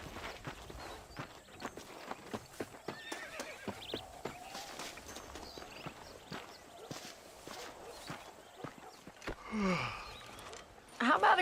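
A horse clip-clops and neighs in the Western video game Red Dead Redemption. Hoofbeats patter at a walking pace and a loud whinny rises near the end, with faint game voices in the background.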